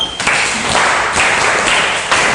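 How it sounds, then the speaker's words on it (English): A classroom of primary school pupils claps for a classmate, a brief, dense burst of hand clapping that runs steadily throughout. "Clap for her."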